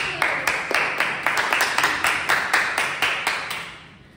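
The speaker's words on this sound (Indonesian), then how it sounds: "tepuk tangan untuk Balki" Classmates clap for a student named Balki, a steady run of evenly spaced claps in a quick regular rhythm, moderately loud and close in a classroom, ending abruptly after about four seconds.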